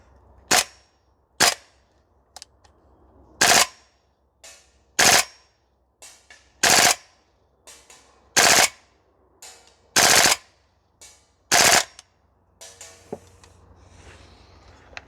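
A Guns Modify SCAR L MWS gas blowback airsoft rifle firing full-auto on a range: about ten short, sharp bursts at fairly even intervals, loud and close, with quiet gaps between and no talking.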